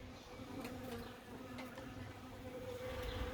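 Robbing honey bees at an abandoned swarm site make a continuous, dense buzzing drone. The swarm sounds close and steady, with a few faint clicks and no speech.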